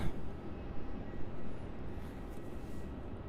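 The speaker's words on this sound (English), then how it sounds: "now departing off runway 34, we have that Qantas 737 QF 685 direct to Adelaide" A Qantas Boeing 737 departing runway 34 at Melbourne Airport, a steady broadband jet roar heard from a distance, holding constant and rumbling low throughout without any voices.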